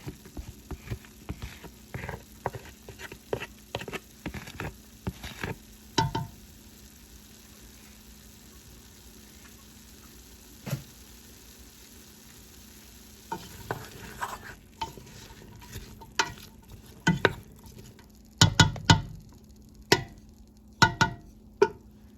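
Chopped garlic sizzles in a pot for chicken soup, with a steady low fry hiss under frequent scraping stirs and clacks of a utensil against the pot, growing busier toward the end.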